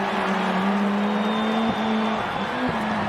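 A rallycross race car at a motorsports expo drives through chicanes with a loud, steady engine drone close by. Its revs dip and jump as the car weaves, and a faint voice can be heard underneath.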